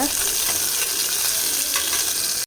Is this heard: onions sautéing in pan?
yes